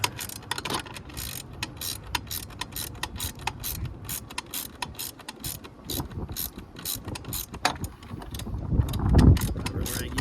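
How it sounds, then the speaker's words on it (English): A ratchet wrench clicks in rapid, uneven bursts while tightening fittings on a toilet, shower and changing-room awning, the close metallic ratcheting repeating steadily, with wind noise and a louder low thump near the end. "These ratchet wrenches really come in handy."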